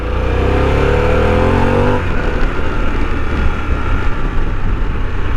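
Harley-Davidson Pan America motorcycle engine heard while riding at low speed, a loud, close, steady drone with a rising tone at first, then a rougher, broader rumble with wind noise.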